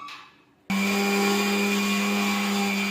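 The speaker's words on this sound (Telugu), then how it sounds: "అది ఇలా మిక్సీ పట్టుకోవాలి మసాలా" A mixer grinder grinding masala starts abruptly after a brief quiet moment and runs loud and steady with a high motor whine, grinding continuously to the end.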